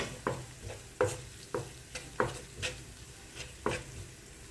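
Chicken with Kashmiri chilli powder and salt sautés in a pan, a quiet background sizzle interrupted by about eight regular scraping strokes of a spoon against the pan, with no talking.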